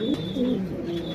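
Pigeons coo softly nearby, several low, rolling calls repeating over a faint hiss of room noise.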